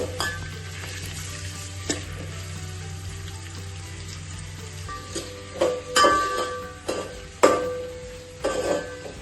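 Onion is shallow-fried in a pan for chicken biryani. A low sizzle runs with a few scrapes early on, then louder clattering bursts of stirring and knocking near the end, close by, with no talking.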